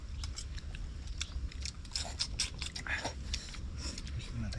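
Close, crisp crunching of teeth biting into and chewing fried snakehead (dalag) fish caught from a river, with rapid crackling bites throughout and soft voices in the background.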